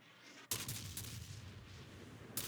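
Naval gunfire from the USS Mahan in the World of Warships video game: sharp, loud broadband blasts at the start, around one second and near the end, over a constant low rumble of sea and engines.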